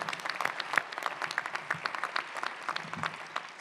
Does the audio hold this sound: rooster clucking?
no